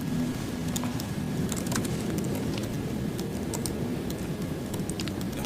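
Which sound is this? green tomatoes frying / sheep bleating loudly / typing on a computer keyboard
typing on a computer keyboard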